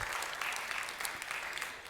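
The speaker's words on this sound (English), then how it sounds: "we should start this talk with a huge applause for all the organizers" A conference audience breaks into steady, dense applause for the event organizers, a continuous clatter of many hands filling the room with no voices over it.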